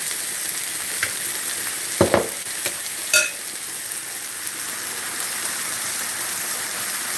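Gravy cooking in a pan for country fried steak gives off a steady, close sizzling hiss, with a few sharp utensil clinks and scrapes near the middle. No one speaks.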